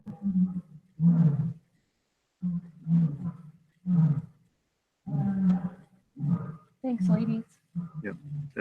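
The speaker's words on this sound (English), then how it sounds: "That is actual lions roaring in the background." Lions roaring outdoors at night, a series of deep, rhythmic grunting roars repeating in bursts with short pauses, fairly loud and close to the microphone.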